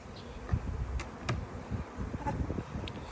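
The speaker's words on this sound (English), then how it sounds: "I have bees constantly landing on that hand." Bees buzz close by in a steady drone, with occasional louder passes near the listener, outdoors and without talk.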